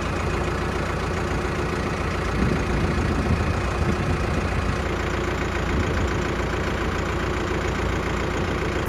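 A tractor engine idles steadily and close by, a continuous low rumble that holds an even level throughout, with no talking over it.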